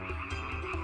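Frogs croaking in a swarm along the river Nile, a dense continuous chorus of low rhythmic croaks pulsing in loose waves, close and steady with no voices.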